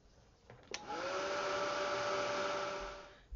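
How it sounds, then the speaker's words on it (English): Embossing heat tool blowing steadily to melt and set embossing powder over Distress Oxide spray, a loud continuous whirring hum with a faint high whine that starts with a click and runs alone to the end. "all I have to do is just heat set this really well"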